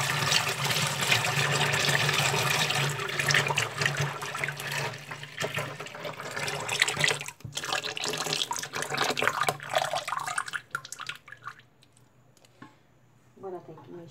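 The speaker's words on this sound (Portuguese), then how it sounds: "Agora eu vou colocar os 4 litros de óleo." Four litres of cooking oil pour steadily into a liquid glycerin soap mixture, a continuous loud liquid gush that fills most of the span and tapers off near the end, with some background sound mixed in.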